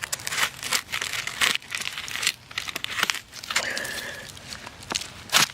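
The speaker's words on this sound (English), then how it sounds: "If we can get past this tape, we can probably rip it off." Tape tearing off a cardboard concrete form tube, a rough crinkling rip with crunchy cardboard rustle in repeated bursts, close and fairly loud with short pauses between pulls.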